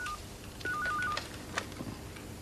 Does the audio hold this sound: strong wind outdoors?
no